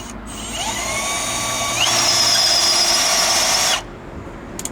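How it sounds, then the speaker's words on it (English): A power drill whirs steadily for several seconds while installing rear door and cargo panels on a Toyota Land Cruiser 76, its pitch climbing as it speeds up, then cuts off abruptly; close and loud, with no talking. "Let's just adjust our drill speed."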